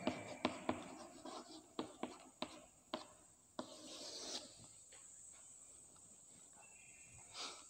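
Chalk or a marker strikes and scratches across a classroom board as a teacher writes, with a run of sharp, evenly spaced taps followed by a longer, softer scraping stroke and faint scratching.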